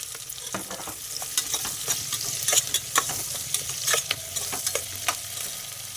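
Potato and carrot fry in a hot pan, a loud continuous sizzle broken by frequent scraping stirs of a spatula against the pan, close and busy.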